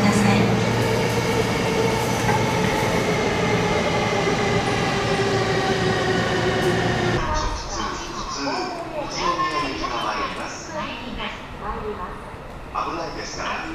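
An Odakyu Romancecar GSE express train runs with a loud, steady rumble and rattle; the roar eases partway through, and a voice speaks over the noise.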